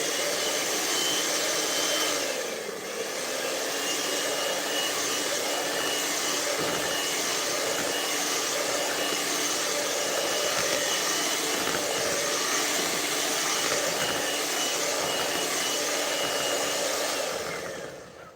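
Electric mixer steadily whirring as flour is beaten into red velvet cake batter, a loud continuous motor drone held for the whole stretch with only a brief dip near the start and no talking.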